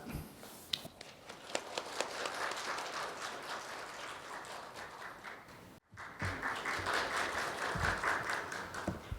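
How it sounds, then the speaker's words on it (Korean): Welcoming applause from a seminar audience on industry and responsible business conduct, dense steady clapping filling the room for several seconds, a brief break near the end, then the clapping resumes. "유범민 국장님을 박수로 모시겠습니다."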